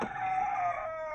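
Chickens in a backyard coop, a short single crowing or clucking call from a hen, fairly close and clear, alone without talk.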